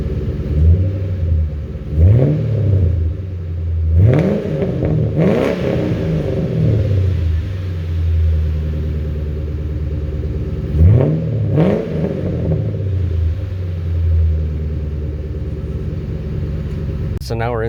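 A 2007 Ford Crown Victoria Police Interceptor engine revs hard several times in short bursts, rising and falling over a steady idling rumble, close by.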